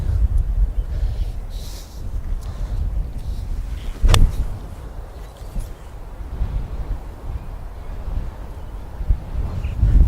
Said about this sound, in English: Now that wind is gusting